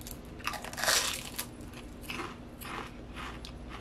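Close, crisp crunching and chewing on dill pickle flavored pork rinds, a few sharp bites followed by steady chomping, fairly quiet and alone without talk.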